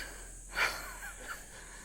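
A person pants and gasps for breath after climbing a flight of stairs, one sharp audible intake followed by softer, quieter breaths, close and alone without speech.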